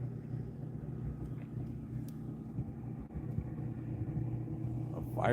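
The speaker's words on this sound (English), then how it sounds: "There's a fire truck coming down the boat ramp." Low, steady engine rumble of a fire truck driving down a boat ramp on a Florida fishing lake, heard faint and distant with some wind noise.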